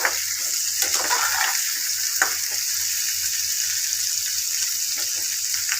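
Food frying in a pan for a Nepali Gorkha chutney crackles steadily up close, with a few brisk stirring scrapes near the start and no talk.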